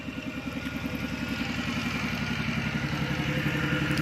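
A motorcycle engine idles nearby with a steady, even low putter and faint mechanical clatter, running continuously with no talking.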